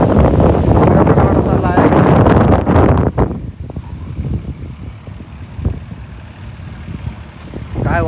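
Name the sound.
strong wind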